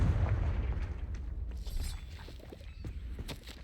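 Confringo blasting spell explosion in Hogwarts Legacy, a loud rumbling boom at the start that fades into crackling debris and faint scattered impacts.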